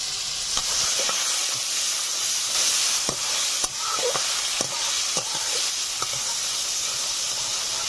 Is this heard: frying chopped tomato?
yes